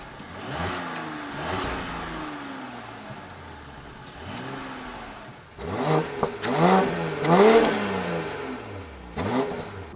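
A 3-liter six-cylinder car engine, about 340 horsepower, accelerates hard in sports mode through repeated rising sweeps as gears shift, its rev pitch climbing and dropping, loud and close throughout, with no talking.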